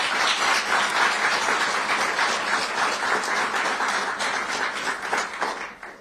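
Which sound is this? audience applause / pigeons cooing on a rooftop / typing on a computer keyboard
audience applause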